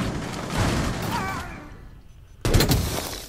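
Gunfire in the mobile shooter R6 Mobile, a burst of shots over busy game noise that drops briefly, then a sharp loud report and more firing right up close.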